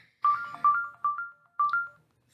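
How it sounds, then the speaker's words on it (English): A phone ringtone rings out in a few repeated electronic bursts with short gaps between them, a clear melodic tone heard alone in an indoor setting. "Excuse that phone."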